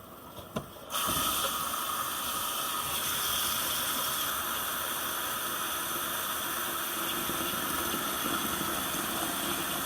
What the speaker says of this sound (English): covered the dough with water, washed my hands of course, and now I'm just going to wash and knead it